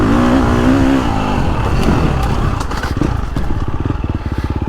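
KTM 350 Factory Edition four-stroke off-road dirt bike pulling hard in a low gear, then short-shifted into second, the engine note dropping to a steady, lugging thump that pulses rhythmically up close with no talk.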